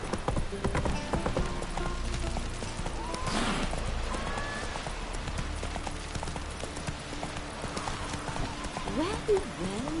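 Hooves of Geralt's horse Roach clip-clop steadily through The Witcher video game, with a brief whinny and game voices talking over the footfalls.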